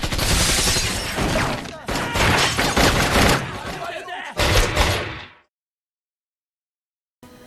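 Gunfire during a shootout with Yakuza in a Jet Li action film, with dense bursts of loud shots and impacts over several seconds, then abrupt silence before a brief final burst.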